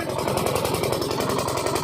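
A small ferry boat's engine runs steadily as the crossing begins, a close, continuous low chugging throb with a fast regular pulse and no pauses.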